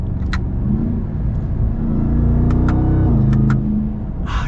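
A 2021 Ram TRX pickup accelerates hard in manual mode, its loud, close engine roar climbing in pitch with quick upshifts, each marked by a brief dip and sharp mechanical clicks.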